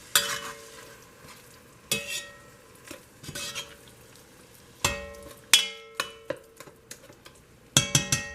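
Meat frying with seasonings in olive oil in a pan on a low electric stove, a soft sizzle under sharp clinks and scrapes of a utensil stirring against the pan, the knocks coming in irregular bursts.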